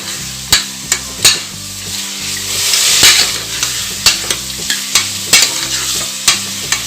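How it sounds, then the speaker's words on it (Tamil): Country chicken pieces sautéing in a pan for gravy, a steady sizzle broken by repeated sharp clacks and scrapes of a spoon stirring against the metal, close and fairly loud with no talking. "நல்லா சிக்கன் உருண்டு வருது. இப்போ நம்ம சிக்கன் நல்லா வணங்கிருச்சு"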